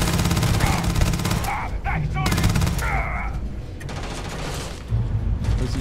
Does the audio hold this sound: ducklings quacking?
no